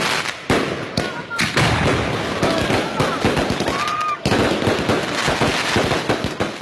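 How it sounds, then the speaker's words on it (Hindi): Fireworks crackle and pop in rapid, overlapping bursts over city streets celebrating Pakistan's 2018 general election. The loud, continuous barrage fills the clip with dense crackling, and crowd voices mix underneath. "बेशतर शहरों में आतिशबाजी से आसमान मुख्तलिफ रंगों में नहा गया।"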